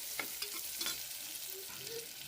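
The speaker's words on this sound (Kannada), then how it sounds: "ಇದನ್ನು ಸ್ವಲ್ಪ ಫ್ರೈ ಮಾಡ್ರಿ ಈಗ ಅವರೆಕಾಳು" Field beans (avarekalu) stir-frying in a pan: a soft continuous sizzle with light scraping stirs at irregular intervals, fairly quiet and without speech.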